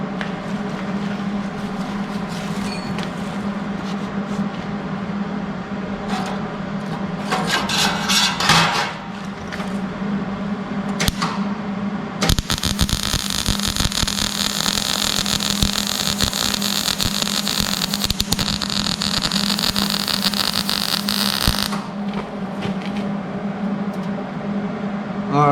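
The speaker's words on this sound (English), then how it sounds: "I'm gonna run a little weld to see what it does." MIG welding with a Hobart Handler 140 welder, a steady loud crackling buzz that runs for several seconds in the middle, with a low electrical hum throughout and no talking.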